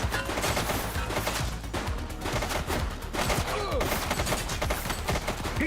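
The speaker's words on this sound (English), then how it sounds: "He's shooting." Rapid bursts of gunfire crackle through a police video game, dense repeated shots spread across several seconds, loud and close, with some voice mixed underneath.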